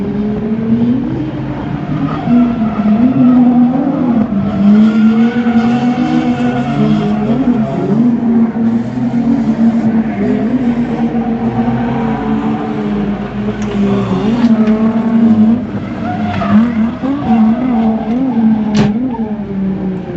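Pro Light class drift cars in an Ultimate Drifting Challenge round wail at high revs, with engine pitch rising and falling and tires squealing and skidding through sustained, loud passes close by.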